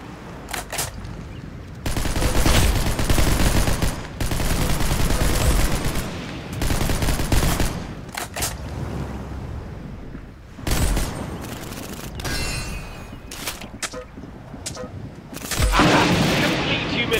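Rapid automatic gunfire from the Roblox game Arsenal bursts loudly in long sustained volleys separated by short pauses, with game announcer voice lines heard between bursts.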